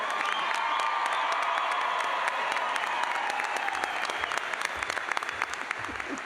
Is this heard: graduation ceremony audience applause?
yes